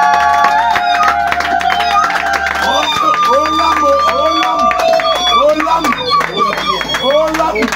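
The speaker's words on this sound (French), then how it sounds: "Sous vos acclamations." A crowd at a dowry ceremony in Yaoundé, Cameroon cheers and claps over loud music with singing, a busy, continuous mix of voices, applause and song.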